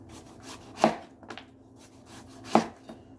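A knife chops through a large old pumpkin on a board, two heavy, close thunks about a second and a half apart with a faint softer cut between them, no voices.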